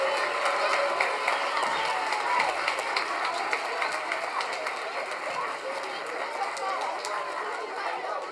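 An audience at a first- and second-grade children's choral concert at Heathwood Hall gives a sustained round of applause, dense, steady clapping filling the room with crowd chatter mixed in.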